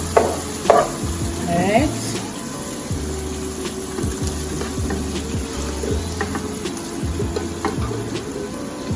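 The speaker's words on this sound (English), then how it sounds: "So I'm gonna put in my ackee." Ackee sizzles steadily in a pan and is stirred with repeated scraping strokes, loud and close throughout, with one brief spoken word near the start.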